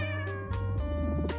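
A cat meows repeatedly, several short close calls with a steady tonal pitch and a few sharper rises, clear and alone with no talking.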